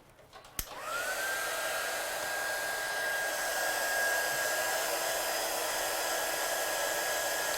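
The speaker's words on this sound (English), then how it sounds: "I'm just going to heat emboss this one." A heat embossing gun blowing hot air for stamping craft work, switched on after a brief click and then a loud, steady whirring roar that holds evenly to the end, no talking.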